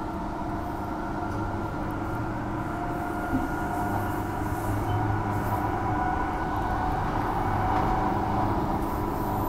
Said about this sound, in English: Any train parked in here? Yep, there it is.